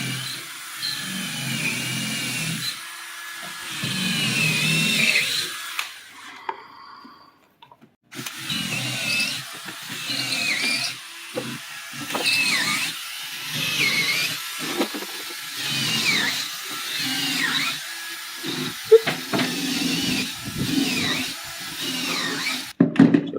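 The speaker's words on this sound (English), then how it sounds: "Now we pre-drill our 3 locations for our bolts." A power drill whirs in repeated bursts, pre-drilling bolt holes, revving up and winding down with short pauses between, close and loud with no talking.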